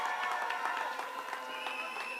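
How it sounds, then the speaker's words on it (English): A crowd at a political victory event applauds and cheers at a moderate distance, with scattered claps and voices blending into a steady wash over about two seconds. "So can we give them a round of applause?"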